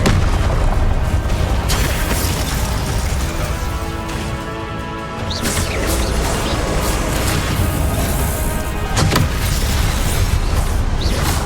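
A Confringo fire spell explodes in the Hogwarts Legacy video game, a loud, dense booming roar that fills the whole stretch with heavy low rumble and sharp bursts, easing briefly midway before surging again.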